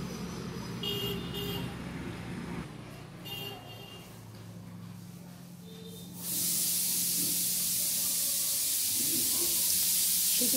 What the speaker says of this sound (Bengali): বাজছে সিটি